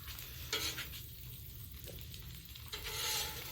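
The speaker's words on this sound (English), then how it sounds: "Put a few onions in here, mix them in." Onions being mixed into an omelet on a Blackstone griddle, with a steady sizzle under a few soft scraping and stirring strokes of a spatula on the hot flat top.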